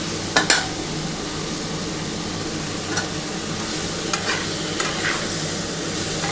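Vegetables frying with turmeric, salt, sugar and coriander powder give off a steady close sizzle, with occasional light clinks and scrapes of a utensil stirring the pan, and no voices.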